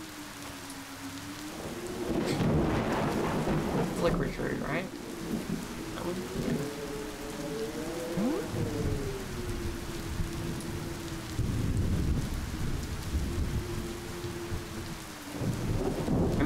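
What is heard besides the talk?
heavy rain with thunder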